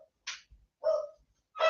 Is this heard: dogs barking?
yes